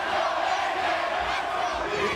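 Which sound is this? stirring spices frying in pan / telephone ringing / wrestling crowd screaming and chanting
wrestling crowd screaming and chanting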